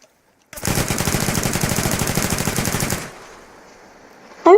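Rapid automatic gunfire in a video game, a dense loud burst of shots lasting about two and a half seconds before cutting off into a quiet tail, with a brief sharp sound at the very end.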